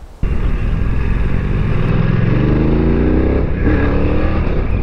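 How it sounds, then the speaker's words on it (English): BMW motorcycle accelerating with a faulty quick shifter upshift, a loud close engine drone rising in pitch, dipping briefly at the stumbling gear change, then pulling on under steady wind noise. "Oh, that was a fault upshift, BMW."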